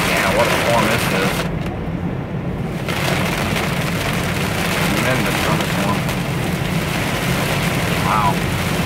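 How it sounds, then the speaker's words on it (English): Torrential rain lashes a moving car on a waterlogged road during a monster storm, a continuous loud downpour hiss with someone speaking briefly under it. "Yeah, what a storm this is."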